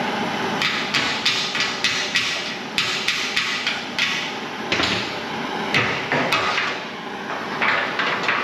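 A hand hammer drives a hot steel rivet into a 1932 Ford roadster frame, striking sharp metallic blows in a steady, repeated rhythm, loud and close with no talk.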